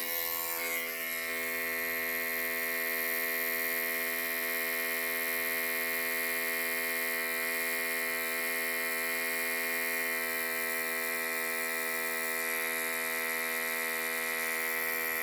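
A Geemy GM-9012 electric shaver runs on its first speed setting. It makes a close, loud, unbroken buzzing hum that holds a steady pitch for the whole stretch, with no voices.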